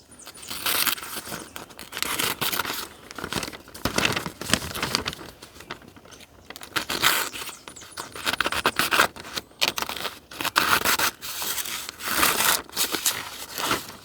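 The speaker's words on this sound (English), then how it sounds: "This is very tough paper to cut, but we are cutting rather than ripping." A freshly sharpened axe edge slices through tough paper in repeated bursts of crisp crinkling and tearing, close and fairly loud, separated by short pauses.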